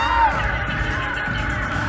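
A crowd cheering at a public event: a steady wash of overlapping shouts and whoops from many voices, heard at some distance and without a break.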